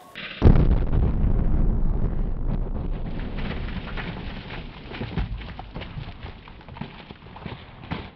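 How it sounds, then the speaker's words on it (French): A controlled explosion of balls bursts out as a geyser outdoors in summer, starting with a sudden loud blast and then a long rushing, roaring spray that slowly fades, with wind buffeting the microphone. "Une explosion contrôlée de balles et c'est vraiment génial."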